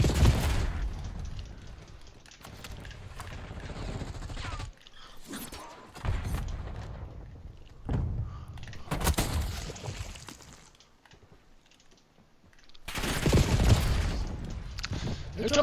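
A shooting video game gives off repeated gunfire and thudding impacts in scattered bursts, with quieter gaps between loud volleys. Speech is mixed in at times.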